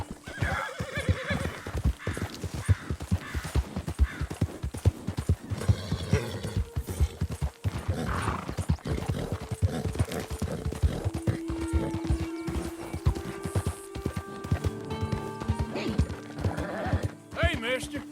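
Horse in the Red Dead Redemption 2 video game, with repeated whinnies and neighs over a steady clip-clop of hooves at a gallop, game music underneath and a voice talking at times.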